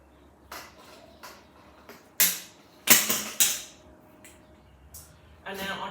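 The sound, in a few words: pipe cutter cutting a hoop pipe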